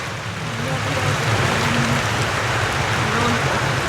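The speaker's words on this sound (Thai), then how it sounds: "ฝนตกเลย" Rain falling as a steady broadband hiss that swells and then holds at a loud level, with faint low voices murmuring underneath.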